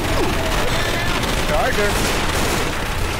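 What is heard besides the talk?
gunfire in the video game Left 4 Dead 2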